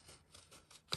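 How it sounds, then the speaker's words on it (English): Scissors snip through paper while a flower shape is cut out for a handmade layered floral card, with soft faint cutting sounds building to one sharper close snip at the end. "So just cut out the flower."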